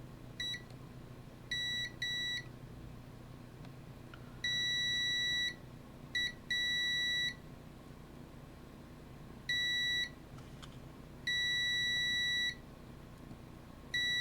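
Repeated electronic beeps from a multimeter set to continuity mode, probing a Game Boy Advance SP power circuit; several short chirps and longer steady tones come in irregular bursts, close and clear, with no talking.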